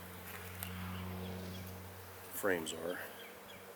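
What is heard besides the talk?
honeybees buzzing at a beehive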